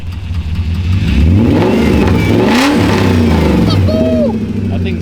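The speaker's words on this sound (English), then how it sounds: "I give a little baby rev." A BMW car engine revs up from idle, climbing in pitch and falling back, close and loud, with a second rev near the end and faint voices underneath.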